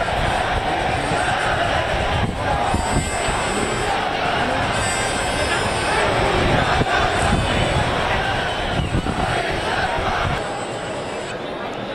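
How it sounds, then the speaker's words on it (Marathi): A large crowd of cricket fans gathers outside Mumbai airport to greet the Indian team, a loud, continuous roar of massed voices and cheering, with a reporter talking over it. "विमानतळाबाहेर सुद्धा चाहत्यांची मोठ्या संख्येने गर्दी झालेली आहे"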